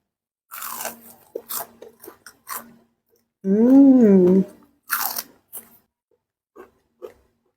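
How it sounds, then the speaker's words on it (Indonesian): Crunchy fried tofu coated in tapioca flour, Tegal-style tahu awul-awul, bitten into with a series of sharp, close crunches before and after a loud drawn-out voiced sound in the middle. "Luarnya kriuk, dalamnya lembut, tahunya gurih"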